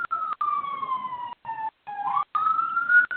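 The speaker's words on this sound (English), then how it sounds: "got sirens" Police sirens wail nearby, a loud electronic tone that sweeps slowly up and down and is briefly cut off several times, with no voices over it.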